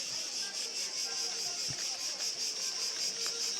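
Crickets chirp continuously in Athens, Greece, a steady pulsing high trill that fills the whole clip at moderate loudness with no talk over it.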